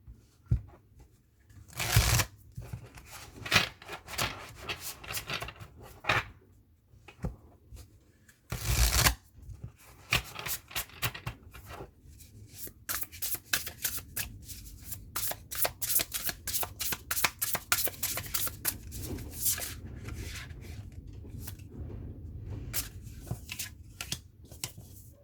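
A deck of tarot cards shuffled by hand, with sharp riffle bursts and then long runs of quick crisp flicking and slapping, close and with no talk.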